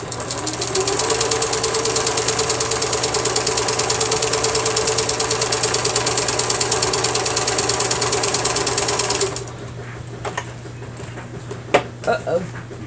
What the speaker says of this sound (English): and we're going to sew it down.